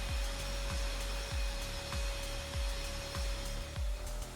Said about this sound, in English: This will grind away the smooth top layer of the concrete and allow the resin to adhere more efficiently.